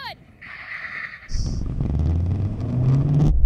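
Skoda vRS cars launch in a drag race. A brief voice and a high tone come first, then a deep engine roar builds steadily and grows louder as the cars accelerate away.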